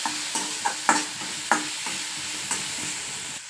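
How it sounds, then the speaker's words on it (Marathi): Green chili and garlic paste stir-fried in hot oil, giving a steady close sizzle broken by several sharp spatula scrapes and clinks against the pan at an uneven rhythm. "हिरवी मिरची आणि लसणाचं वाटण मी त्याच्यात टाकून परतून घ्यायचं ते चांगलं तेलामध्ये"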